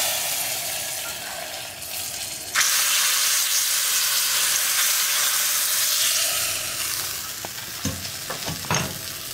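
Hot tempering poured into parippu lentil curry, a sudden loud sizzling hiss that holds steady and slowly fades, with a few stirring clinks near the end and no talk.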